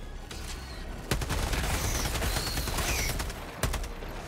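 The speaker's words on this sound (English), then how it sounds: "Oh, that machine gun was a pile of shite." Sustained automatic gunfire from a machine gun in the video game Helldivers 2, a dense rapid rattle of shots running the full length with sharper blasts near the start and end, loud and close with no talk over it.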